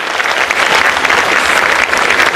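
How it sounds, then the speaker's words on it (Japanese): Loud, continuous applause fills the room as an audience welcomes the director on stage for a greeting at a screening of a ONE OK ROCK documentary film, with dense clapping throughout. "皆さん大きな拍手でお迎えください。"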